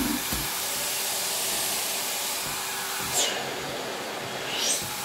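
A vacuum cleaner runs in a dark dining room, giving a steady, close whooshing drone throughout, with two brief rising whistles as the nozzle shifts.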